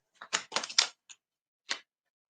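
Playing cards riffled and shuffled by hand in a quiet room, a few short crisp bursts of flapping card noise with brief pauses between them, close and fairly faint.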